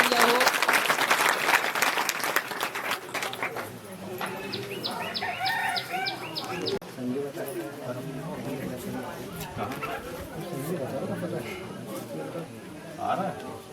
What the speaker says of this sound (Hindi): इनके लिए भी जोरदार तालियां हो।